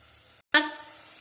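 Ginger, garlic and pepper tossed into hot oil with tomato already cooked down, giving a sudden loud sizzle burst after a brief silence that then settles into a steady frying hiss.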